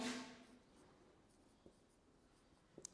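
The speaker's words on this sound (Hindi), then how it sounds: "छोटी सी परिभाषा लिखता हूं" Faint scratching of a teacher writing a definition on a board in a classroom, with a soft tap or click near the start and a few light strokes and knocks, quiet and sparse.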